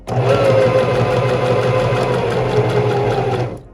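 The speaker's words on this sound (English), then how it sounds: "And then you just sew it all the way around." A sewing machine runs continuously, stitching around the hem of a cropped shirt with a steady, close, buzzing whir that stops abruptly at the end.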